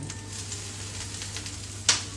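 Oil sizzles and spatters in a pan during home cooking, a steady faint hiss with one sharper pop near the end, no talking.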